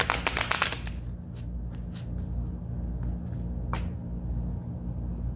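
Tarot cards are shuffled close by, with a burst of quick riffling flutters at the start followed by softer scattered slides and taps of the deck.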